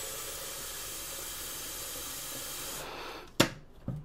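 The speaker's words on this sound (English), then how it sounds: "first thing I'm going to do is boil some water" Water heating in a tea kettle gives a loud steady steamy hiss that cuts off near the end, followed by two sharp clicks or knocks.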